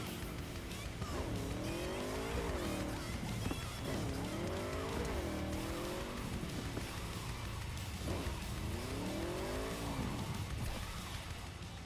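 Engine note of a car driven in the video game Cyberpunk 2077 rises and falls in repeated revving sweeps, with tire squeal and a steady dense game soundscape underneath, loud and continuous throughout.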